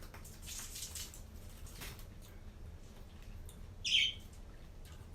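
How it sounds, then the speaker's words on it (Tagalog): A pet lovebird gives one short, bright chirp partway through, close and clear above a faint rustling indoor background. "Ang ingay ng aking alaga, lovebird."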